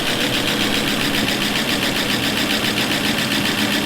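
Land Rover Discovery 1 engine idling steadily with a low, even rumble, close and loud, unbroken for the whole stretch with no talk.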